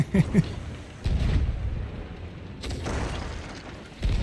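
Naval cannon fire in a multiplayer ship battle game booms heavily in several low, rumbling blasts, with a few sharp cracks at the start and a longer roll of fire midway.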